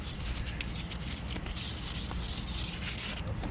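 Sandpaper rubs steadily over a mountain bike fork in quick, close, continuous scratchy strokes with no voices.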